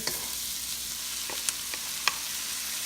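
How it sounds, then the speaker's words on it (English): Onions and garlic sauté in a pan for string bean adobo, making a continuous bright sizzle with a few sharp clicks of stirring scattered through it. "Let's saute the onions for 1 minute. The onion is cooked. So let's put our garlic in."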